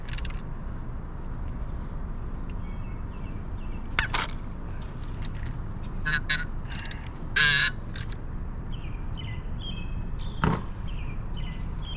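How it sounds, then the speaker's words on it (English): A ratchet with a 13mm socket loosens the oil drain plug on a Royal Enfield Continental GT650 twin motorcycle, giving a few short, sharp clicking bursts close by over a steady low background hum. "We're gonna take our 13mm on our ratchet and just loosen up our drain plug bolt"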